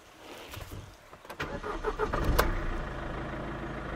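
A Mercedes C200 CDI W203 diesel engine cranks and catches, rough mechanical clatter building up then settling into a steady idle, close by with no talking, after an oil change.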